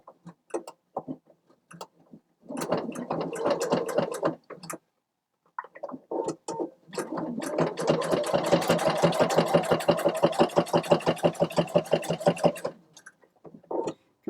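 A home sewing machine stitches a fabric needle keeper, running in a short burst, then a brief one, then a longer steady run of rapid, even needle strokes before stopping, with no talk.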